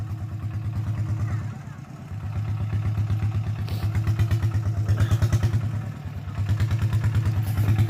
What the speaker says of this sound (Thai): ขี่รถโฮพาดมา